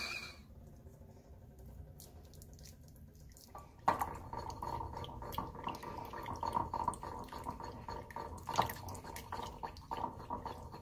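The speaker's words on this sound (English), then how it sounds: "sounds like our water is boiling, so I'm gonna pour this right into the bowl." Boiling water is poured steadily into a bowl, a continuous splashing trickle that starts after a quiet moment, with faint clinks of dishware nearby.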